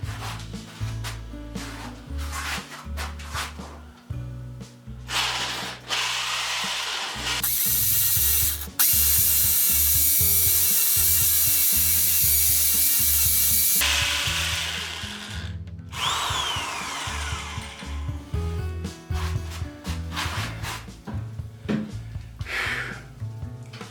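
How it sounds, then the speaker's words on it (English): A hammer drill whirs in repeated bursts drilling into a wall, with one long sustained high-pitched grinding run in the middle, interspersed with clicks and clatter of tools. "Now I'll use the hammer drill to drill the first hole"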